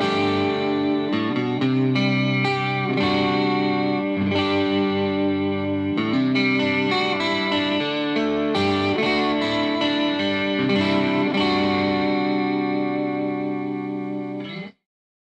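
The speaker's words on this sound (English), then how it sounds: "I'm going to start with the vibrato effect and get a very cool sounding vibrato" Electric guitar chords and notes through a BBE Soul Vibe vibrato pedal, with a wavering, pulsing vibrato, played continuously and clearly, then cut off abruptly at the end.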